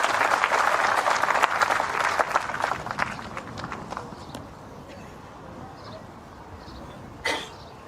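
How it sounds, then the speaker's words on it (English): Spectators applaud at the 2016 World Bowls men's singles final between Canada and New Zealand, clapping strong at first and then thinning out and fading away, with a brief isolated sound near the end. "Dave Edwards is applauding."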